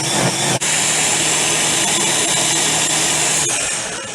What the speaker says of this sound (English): you won't be able to hear me over the blender